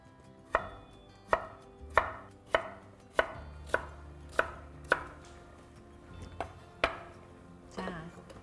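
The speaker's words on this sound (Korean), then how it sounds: "자, 그래서 이제 감자가 다 잘라졌는데요." A knife chops potatoes on a cutting board for a vegan vegetable soup, with sharp, close, evenly spaced strokes, about nine in a steady rhythm with a few uneven gaps near the end. No one talks.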